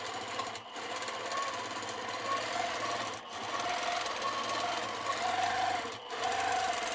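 A sewing machine stitches a quilt freehand along a drawn stencil line, a dense steady whirring hum close by, broken by three brief pauses.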